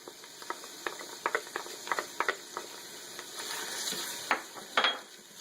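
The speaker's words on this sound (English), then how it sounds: "toss this garlic in here" Garlic and onions stirred in a pot, quick close scraping and clicking of a utensil, then a rising sizzle as the garlic goes in.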